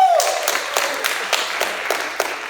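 Crowd of new transfer students at a university business college welcome applauding, a sustained wash of clapping with sharp individual claps popping out, fairly loud and close, with no clear speech on top.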